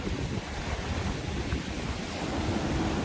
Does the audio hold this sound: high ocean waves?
yes